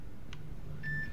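An electronic door code keypad in the video game Road 96 gives a short beep, then a second steady tone, heard alone against a low background hum.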